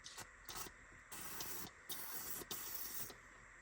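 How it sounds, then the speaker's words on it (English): PB Blaster penetrating oil sprayed from an aerosol can onto a Porsche 944 suspension part, several short hissing bursts of varying length with brief gaps, close by. "the first thing you do when doing this project is spray PB Blaster in here"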